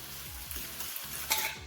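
Potatoes frying in seasoned oil for a spinach corned beef hash give a soft, steady sizzle and crackle, quiet and close, with a slightly louder spatter near the end.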